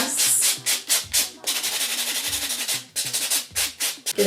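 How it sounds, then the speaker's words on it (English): Quick rhythmic buffing strokes on clear acrylic dagger nails, a dense scratchy rubbing in rapid back-and-forth bursts with short pauses between runs, loud and close. "I'm gonna go ahead and just buff really fast."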